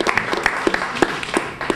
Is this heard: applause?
yes